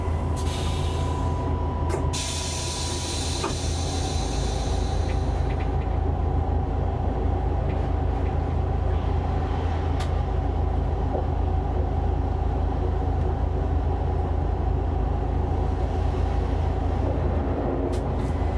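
A train on the Aurillac–Toulouse line rolls at reduced speed, a loud, steady low rumble of engine and wheels heard from the cab, with a few brief metallic clanks and hissing early on.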